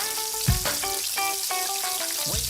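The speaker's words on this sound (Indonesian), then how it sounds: "Pertama kita goreng-goreng dulu nih." Offal, including tripe, spleen, lung and beef, fries in hot oil with a continuous bright sizzle, while a music-like tonal background plays throughout.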